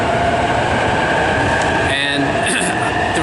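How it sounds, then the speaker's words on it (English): A Japanese train running from Tokyo Station toward Narita Airport gives a loud, constant interior rumble and hiss, with a faint rising whine near the end. "I wanted to experience a Japanese train"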